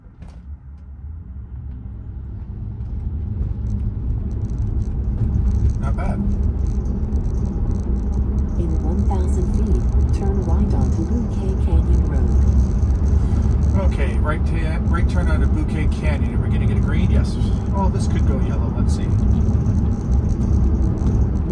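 A Tesla Model 3 pulls away from a traffic light, its low road rumble and faint motor whir rising and holding steady inside the cabin while a person talks throughout.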